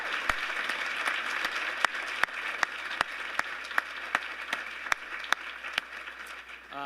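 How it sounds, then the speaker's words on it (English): Round of applause for John King at a conference convening, a steady crowd clapping with several sharp, distinct individual claps standing out at a roughly regular rhythm over the wash, lasting nearly seven seconds. "Please join me one more time in giving John King a round of applause."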